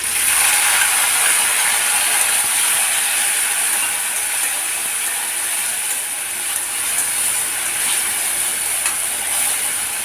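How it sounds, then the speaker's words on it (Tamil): Tomatoes sautéing in a pan for crab gravy, giving a steady, loud broadband sizzle and crackle that stays even throughout with no voices. "தக்காளி நல்லா மசிய வதக்கிக்கலாம்"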